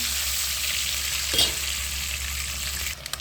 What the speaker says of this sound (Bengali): ডিমগুলো ভাজা হয়ে গেছে, এবার তুলে নেব আস্তে আস্তে